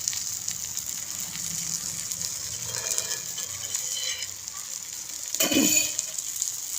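Methi dhapata, a fenugreek flatbread, frying in oil on a pan: steady soft sizzle with a brief louder splash of hissing near the end, close and quiet, no speech.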